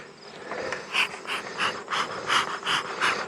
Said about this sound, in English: I think the bees get a little cranky when I open them